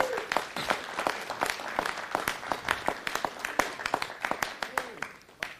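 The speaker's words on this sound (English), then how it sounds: "let's give him a round of applause as he comes" Hands clap at a city council meeting in honor of a team manager, a thinner round of applause with distinct, irregular claps near the listener, tapering off toward the end.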